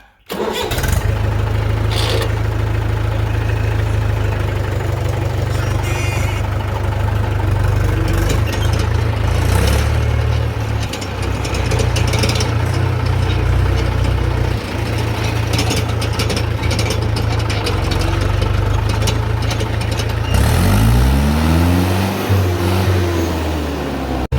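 A Mahindra 575 tractor's engine cranks, catches and settles into a loud, steady low idle close by, its rumble running unbroken with a slight shift in tone near the end.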